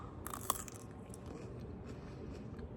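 Someone bites into a raw, sweet, crunchy garden root vegetable that tastes like carrot. There is one crisp snap, followed by soft, faint chewing crunches up close in a quiet setting.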